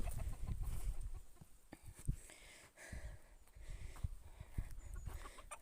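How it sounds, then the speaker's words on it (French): Bantam hens and guinea fowl in a farmyard cluck and chatter faintly, with soft irregular calls over low rustling and background noise. "Là on a les poules naines et les pintades"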